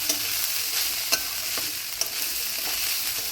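Rice frying in ghee in a pan for basanti pulao, stirred slowly, giving a loud, dense sizzle with a few soft scraping knocks from the spatula, close up and without speech.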